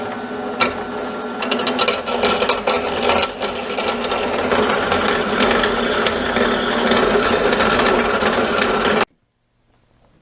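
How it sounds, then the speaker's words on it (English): A bandsaw cuts out a metal part for a grinding-disc arbor in a home workshop, giving a steady, loud rasping and whirring for about nine seconds before the machine stops and the shop falls quiet. "let's go cut that out on the bandsaw"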